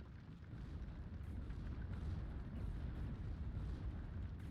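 An artillery barrage of Katyusha rockets in a WW2 real-time tactics video game, heard as a faint, distant, continuous rumble of overlapping booms with no clear single blast.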